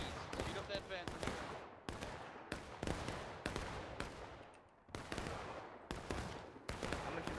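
Rifle volleys in the Civil War shooter War of Rights, a campaign battle on Reno's map: repeated sharp, loud gunshot cracks, roughly every half second to second, overlapping with distant fire and occasional talk.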